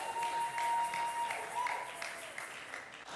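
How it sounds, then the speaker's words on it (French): An audience at the opening show of a gospel talent competition applauds an ambassador returning to her seat. The clapping is moderate and fairly close, with a faint tone and some voices mixed in, and it tapers off toward the end. "Nous applaudissons l'ambassadrice Sandra Mboui pendant qu'elle regagne sa place."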